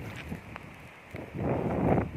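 Dry wind blows outdoors in Prachinburi, Thailand, gusting against the microphone. Faint buffeting builds into a louder, steadier low rumble during the last second.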